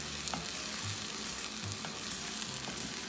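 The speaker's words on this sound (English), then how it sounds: "So now, we're just gonna give this a stir. Okay, try to scrape a little bit off the sides here." Spanish rice fries in a pot while a spoon stirs and scrapes the sides, giving a steady close sizzle broken by soft scraping strokes.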